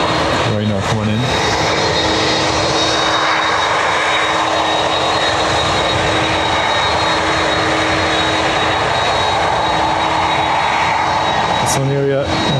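A Qatar Airways Boeing 777 comes in to land at Dublin Airport with a blown tyre, its jet engines a loud, continuous broadband roar with a steady whine, and brief bursts of radio-like chatter at the start and end.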